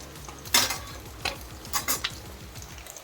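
Fried fish pieces are lifted out of a pan of hot oil with a utensil, giving several sharp metallic scrapes and clinks over a steady low sizzle; no one speaks.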